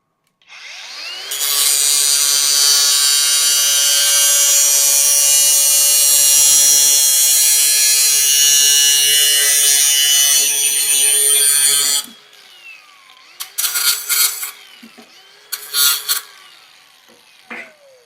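An angle grinder fitted with a thin FLEX cutting wheel slices through angle iron, giving a loud, sustained high-pitched shriek for about ten seconds, then the motor winds down and two short bursts of cutting follow, with no talking.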